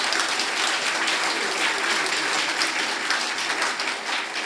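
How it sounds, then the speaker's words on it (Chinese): Dense, sustained applause from an audience welcoming a minister to a swearing-in ceremony for six newly appointed diplomatic representatives, filling the hall steadily throughout without any talk over it. "掌声欢迎部长莅临会场"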